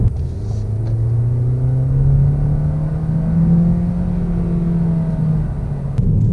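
A 2019 Toyota Corolla Hatchback engine pulls steadily under acceleration, a smooth rising hum that climbs gradually in pitch, heard close and continuous with no talking.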